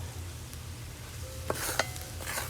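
Cumin, turmeric, cinnamon and garlic cooking down in melted butter in a pan give off a steady, soft sizzle with a couple of light utensil taps and stirring scrapes near the end.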